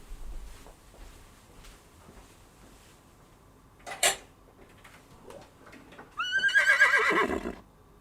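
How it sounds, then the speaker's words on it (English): A horse lets out one loud whinny lasting just over a second. Before it come faint clatters and a single sharp thump. "The horse is here."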